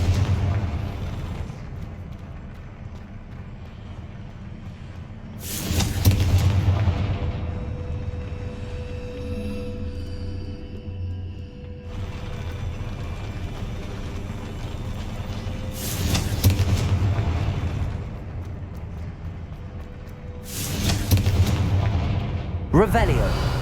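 Confringo spell blasts in Hogwarts Legacy, several booming explosive bursts spaced several seconds apart over a rumbling game backdrop, with some talk mixed in.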